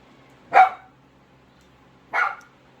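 Dogs indoors bark at children playing outside, two sharp, loud barks about a second and a half apart, with quiet in between.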